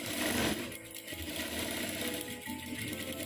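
A sewing machine runs continuously at close range, stitching a bowl-shaped pattern, with a steady whirring rattle and no pauses.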